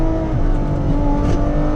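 A Ferrari 812 Competizione engine roars steadily while the car is driven, loud and close from inside the cabin, a continuous high-revving drone without speech.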